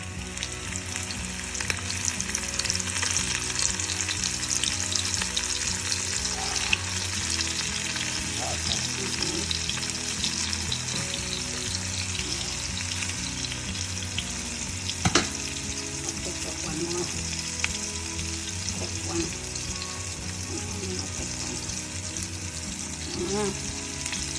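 Flour, salt and pepper coated fresh catch fries in a pan with a dense, continuous hiss and crackle, steady throughout with occasional clinks, while people talk faintly in the background.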